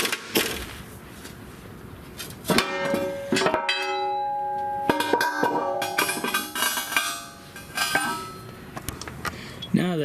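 Metallic clinks, clangs and ringing tones from tools and bolts as skid plate bolts come off a Duramax truck, in scattered bursts close by with brief quieter gaps.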